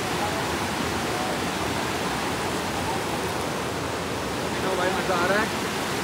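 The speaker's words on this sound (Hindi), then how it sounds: "मुझे लग रहा है ये थोड़ा ज्यादा बहाव है" Strong monsoon stream water rushes at Anjankund in Dang, Gujarat, as a loud, continuous broadband roar with no breaks, with a brief faint voice near the end.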